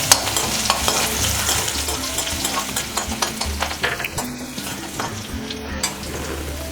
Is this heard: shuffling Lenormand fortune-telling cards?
no